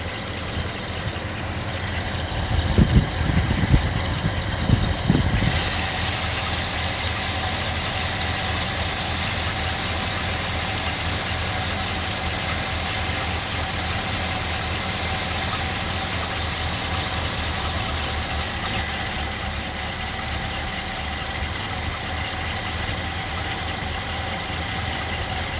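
A car engine idling steadily at low speed while the carburetor idle mixture screws are adjusted, a constant mid-pitched hum with a few brief louder bumps early on, then an even drone until the end.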